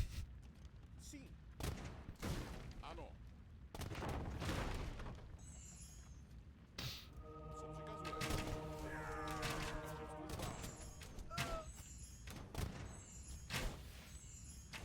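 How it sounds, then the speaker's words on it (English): Hand cannon gunfire in Age of Empires II, with repeated sharp gunshot cracks and clattering battle impacts scattered through a busy fight, alongside other game sounds. "the problem with microing against hand cannons is like they miss a lot of their shots"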